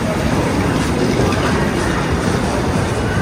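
Train K228 at a Chinese railway station platform, a steady, loud rumble of rail cars with faint clickety-clack running continuously, no voices.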